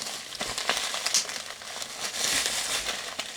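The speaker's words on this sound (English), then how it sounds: "They got it taped up with the bubble wrap." Bubble wrap packaging pulled and unwrapped from a taped-up parcel, giving close crinkling and crackling rustles in uneven bursts, with a few sharper pops and tears, no talking.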